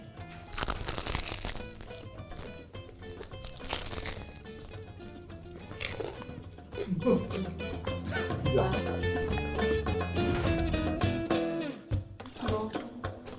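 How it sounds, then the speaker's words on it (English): Crispy phyllo dough borek filled with minced meat and cheese crunching loudly in repeated bites and breaks, with crinkly crackling textures throughout and a few quieter pauses. "You can hear the crunch."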